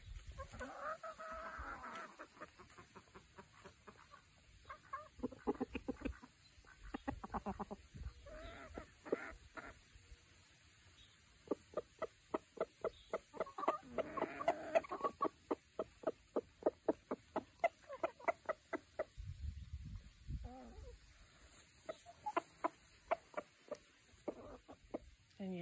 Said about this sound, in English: the rooster's tidbitting. That's what they do when they find something for the hens